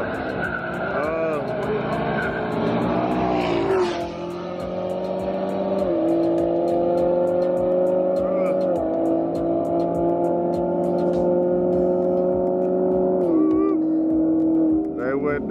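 A Mustang and a Lamborghini race each other, engines revving hard with rising and falling pitch through gear changes, loud and continuous with voices over the roar.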